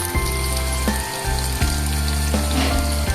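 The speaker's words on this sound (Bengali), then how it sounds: "মাংস ভাজা গরম গরম, আর এদিকে হচ্ছে পেঁয়াজি ভাজা।" Gram-flour-coated chicken pieces and onion fritters frying in hot oil give off a continuous, close sizzle for a few seconds, with no voices.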